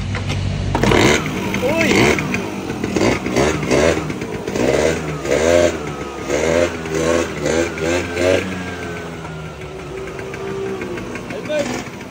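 A SYM Jet scooter engine is started after refuelling and revved in loud, rough bursts that settle toward an uneven idle, while someone talks and exclaims over it nearby.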